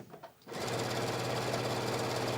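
Sewing machine chain stitching fabric pieces: after half a second of quiet handling, the motor starts and runs a fast, steady, loud needle rhythm through to the end.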